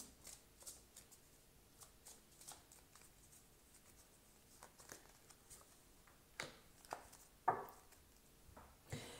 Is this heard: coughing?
no